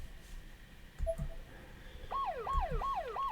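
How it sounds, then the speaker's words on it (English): A police car siren in the video game Corpse Party: Blood Drive wails, rising and falling repeatedly in quick cycles, starting partway through over a faint, low background. "That sounds like a police car"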